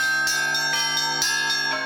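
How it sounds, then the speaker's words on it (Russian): Church bells peal continuously at a monastery festival, several bells struck in a rhythmic chime played by a family ensemble, loud and close with overlapping ringing tones and no talk. "Нравится мне колокольный звон, он как-то воодушевляет"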